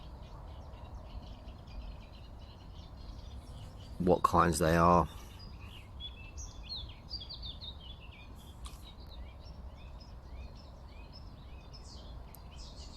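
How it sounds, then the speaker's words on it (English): Many birds chirp and sing continuously in the background, a dense chorus of calls, with a brief burst of nearby speech partway through. "You can hear the birds, multitudes of birds singing."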